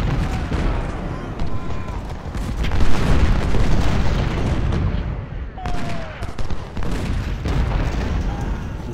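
Cannon artillery fire in the Civil War strategy game Ultimate General: Civil War during the Battle of Chancellorsville, repeated booming shots and rattling volleys layered in a continuous battle din.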